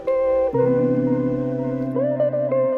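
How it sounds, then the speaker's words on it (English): Electronic music played in Ableton carries a delay and reverb effect, sustained tones shifting pitch after a short opening note, with echoing tails and no talking. "Different type of delay there."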